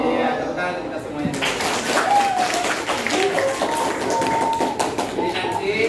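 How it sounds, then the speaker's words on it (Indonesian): Schoolchildren and an audience clapping together at an elementary school gathering, a dense steady patter of applause with some overlapping chatter and voices. "Iya, tepuk tangan kita semuanya."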